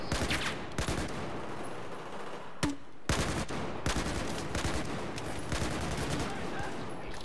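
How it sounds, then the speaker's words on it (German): Battlefield 4 multiplayer on Operation Locker, with M320 grenade launcher fire and explosions mixed into steady battle noise: repeated booms and gunshot bursts of varying loudness, some close and sharp, over a continuous roar of combat. "M320 Granaten, hier fliegt ja alles."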